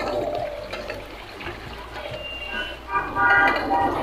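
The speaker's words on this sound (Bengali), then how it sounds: "3-4 বার ভালো করে খলিয়ে ধুয়ে নেব।" Chicken meat washed by hand in water, with sloshing and rushing water swelling toward the end, close and fairly loud, and a voice faintly present underneath.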